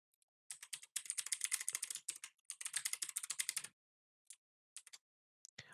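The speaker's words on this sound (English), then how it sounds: "I'm going to enter my Mojang account email address and password." Computer keyboard typing an email address and password, rapid close key clatter in two dense bursts followed by a few scattered single keystrokes and then quiet.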